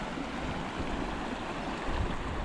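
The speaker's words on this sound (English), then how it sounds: "the water has picked up in speed, and there's a lot more coming through the river system at the moment" Fast-flowing river water in daylight at a campground, with the current swollen and running quickly. It makes a steady, dense rushing roar that holds even throughout, close and full, with no voices.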